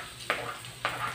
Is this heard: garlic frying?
yes